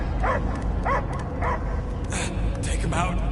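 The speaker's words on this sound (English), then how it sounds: "I hear only barking" Dog barking, a series of short barks with a whimpering edge repeated roughly every half second, close and fairly loud over a dense background rumble.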